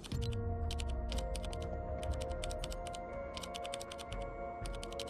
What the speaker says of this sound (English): the ASMR keys emote